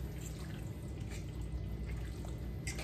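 Chicken in a slow cooker being stirred into barbecue sauce for bacon ranch pulled chicken sliders, a steady wet sloshing and squelching close by, with no one speaking.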